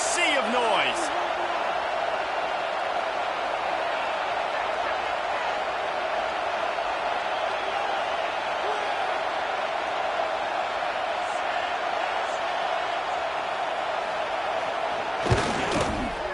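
A dense, steady roar from a football stadium crowd during a field goal attempt, loud and continuous, with a brief thump near the end.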